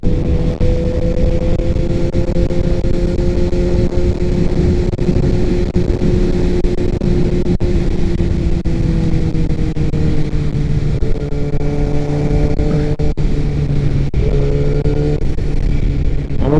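Motorcycle ridden in a group on a winding road, its engine droning steadily and loudly up close, pitch easing and shifting as it works through the bends.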